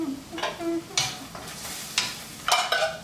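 Pasta sauce sizzles softly in a pan while a spoon stirs it in several distinct scraping strokes, fairly close and moderately quiet.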